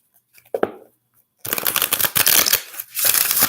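A brief riffle of cards, then a longer rapid flutter of a deck being shuffled up close, a short pause, and another burst of shuffling.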